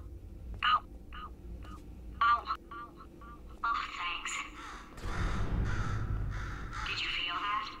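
A bird in the Portal 2 video game gives several sharp, close caws in short bursts, followed by a broader noisy stretch of game sound with speech-like voices mixed in.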